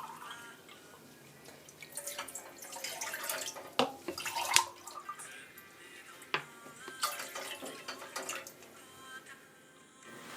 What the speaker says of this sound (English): Now add the water.